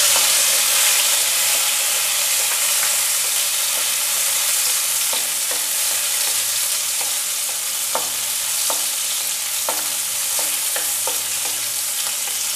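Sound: chopped tomato added to a frying pan, sizzling

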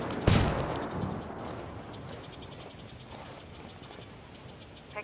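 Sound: flashbang grenade thrown in the video game Ghost Recon Wildlands

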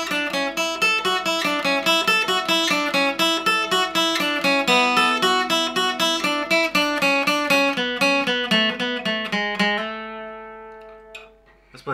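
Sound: requinto guitar playing the opening riff all together

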